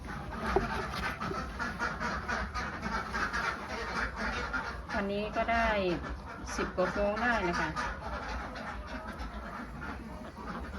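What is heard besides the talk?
Khaki Campbell and Yi Liang laying ducks quacking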